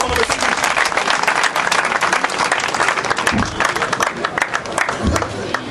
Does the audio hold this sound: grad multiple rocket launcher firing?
no